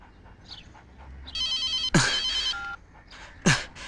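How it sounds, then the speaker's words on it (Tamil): A cell phone rings in a steady electronic tone for about a second, mixed with other short noises and a couple of sharp bursts around it in a film scene, with no talking. "என்னோட செல்போன் எப்பவுமே அடிச்சுக்கிட்டே இருக்கும்."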